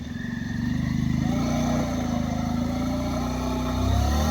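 A motorcycle engine idles and revs with a steady mid-pitched rumble while the bike is loaded onto a vehicle in a tribal area near Vizag, with voices talking over it.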